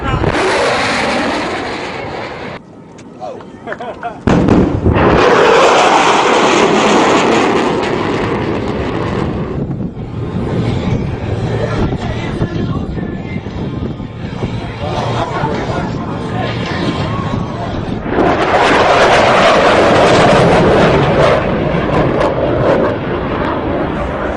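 A loud, roaring jet passes close by, building vapor as it flies fast, its rumble swelling and fading with a sharp blast partway through, crowd noise beneath.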